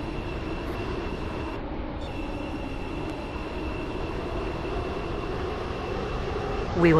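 A Class 707 train in a Stepford railway video game runs at a steady pace toward Port Benton, its broad, constant rumble filling the clip with little change until a slight swell at the very end.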